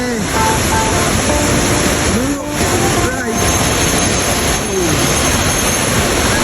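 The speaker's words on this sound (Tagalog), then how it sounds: "rinig na namin ang bagsak ng tubig sa falls" The rushing water of Lubong-nangoloan Falls in San Felipe, Zambales, pours during the rainy season as a loud, constant roar that fills the whole scene, with brief faint chirps and a couple of short dips in the noise.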